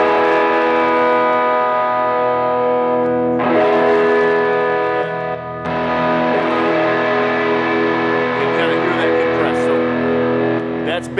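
Electric guitar chords played through an overdrive pedal ring out with a thick, overdriven crunch, sustained and loud, with a brief break before strumming resumes.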